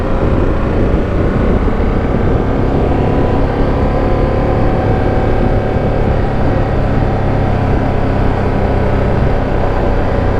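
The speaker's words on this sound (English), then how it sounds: "So it's a new 895cc twin engine." A Ducati Panigale V2S with a new 895cc twin engine and stock twin exhaust, being ridden; a steady, loud engine drone with wind roar runs without a break throughout, with no talk.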